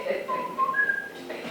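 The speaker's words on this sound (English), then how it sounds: "whistle a tune" Someone whistles a short tune of a few clear, bright notes that rise and glide over about a second and a half, fairly close and alone.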